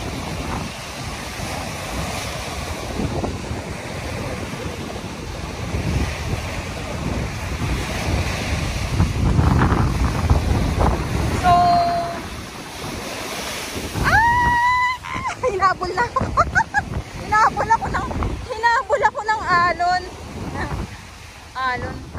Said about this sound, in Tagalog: Hinabol ako ng alon.